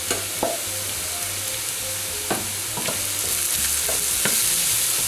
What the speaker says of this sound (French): on va la cuire pendant environ 5 minutes à feu moyen en remuant régulièrement